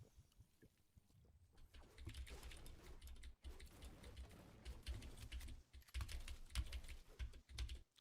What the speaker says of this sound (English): Nothing but keyboard clicks at this point.